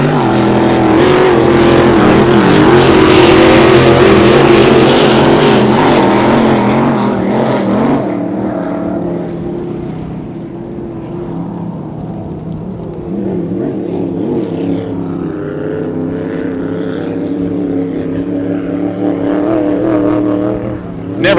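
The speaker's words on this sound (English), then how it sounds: "Never ceases to amaze me when we put vintage boats out on the race course." Vintage hydroplane race boats roar around the course on Moses Lake during a heat, a loud, continuous engine drone that peaks early, then eases to a steadier, slightly more distant rumble.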